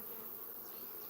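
Honeybees drone steadily around backyard beehives, a dense continuous buzz with no voices, close and even throughout.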